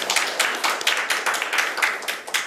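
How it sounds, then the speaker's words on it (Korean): Short burst of clapping from a policy forum audience, brisk and fairly close, fading slightly toward the end. "좋은 의견 말씀 주신 우리 시민 여러분들께도 박수 한번 부탁드리겠습니다"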